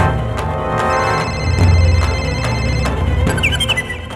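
A mobile phone ringtone plays a repeating electronic melody, loud and close, with a few short chirps near the end.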